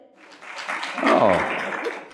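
Audience applause, building into a fuller burst of clapping about halfway through and then holding steady, heard alongside a speaker at a motivational talk.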